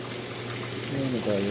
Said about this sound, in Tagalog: Dadagdag ako ng fresh water.